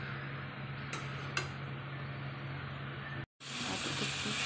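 Chickpeas sautéing in a pan, a steady frying hiss with a few metallic clinks of a spoon against the pan and a brief cutoff before the sizzle resumes.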